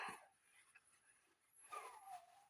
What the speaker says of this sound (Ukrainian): скавчить, як бешена